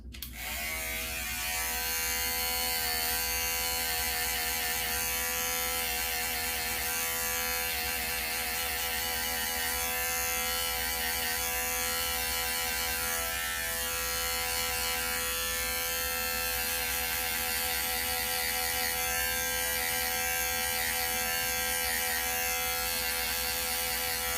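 Electric hair clippers with a 1.5 guard and the lever closed trim a beard line, a continuous steady buzzing hum that runs uninterrupted at close range with no talking.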